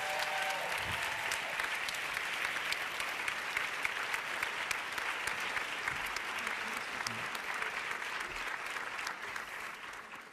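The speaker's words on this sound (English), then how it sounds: "May we have a big round of applause, everyone, in welcoming to the stage Sofia Exarchou" A large audience applauds to welcome film director Sofia Exarchou to the stage at the LUX Audience Award event, a dense, steady wash of clapping that holds at even loudness for about ten seconds, easing slightly at the end.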